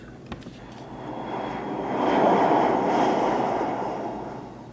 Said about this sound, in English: So right here, I add in the sound of a plane.